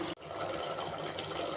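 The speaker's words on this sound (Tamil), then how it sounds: "நான் மிக்ஸி கழுவின தண்ணியை அதிலே ஊற்றிக்கிறேன்" Water left from rinsing a mixer is poured steadily into a pot of chicken gravy, making a continuous close splashing, trickling stream with no voices.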